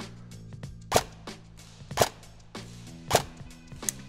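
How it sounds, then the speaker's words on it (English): Airsoft gun firing BB test shots at a field: four sharp, distinct pops spaced about a second apart, close and crisp against a quiet hum, with no talking. "So let's take a few test shots to see what we got."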